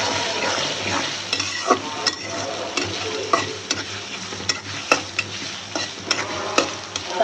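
Chicken for a mustard chicken curry sizzles steadily in a pan while being stirred, with repeated sharp scrapes and clicks of the spoon against the pan over the constant frying hiss.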